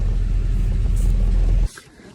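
A car's engine rumbling low and steady as the car is driven back into a garage for brake work, loud and close, then cutting off abruptly near the end.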